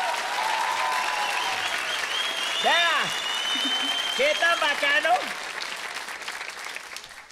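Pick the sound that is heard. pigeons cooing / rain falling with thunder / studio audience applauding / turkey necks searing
studio audience applauding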